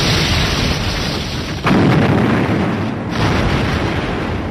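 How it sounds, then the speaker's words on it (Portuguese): Heavy explosions from torpedoes striking ships in a WWII Atlantic naval battle, a continuous loud rumbling roar with a sudden deeper boom midway and a second burst later, no voices. "Tudo o que se podia ver eram clarões e sons de torpedo atingindo os navios"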